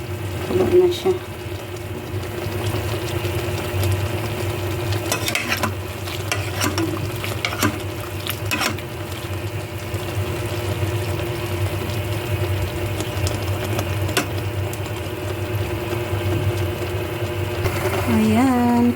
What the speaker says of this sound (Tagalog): kulo na ang aking adobong manok na may kangkong